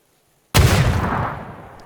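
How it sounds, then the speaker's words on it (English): A grenade airburst in PUBG on the Mylta Power map: silence, then one sudden loud near blast with a heavy low boom that rings and decays over about a second and a half. "So let's go for an airburst."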